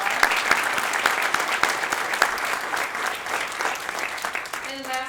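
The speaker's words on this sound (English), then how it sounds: "So let's give them a round of applause." A crowd applauds the children at a community event, dense steady clapping close and loud from start to finish, easing slightly near the end as a faint voice begins.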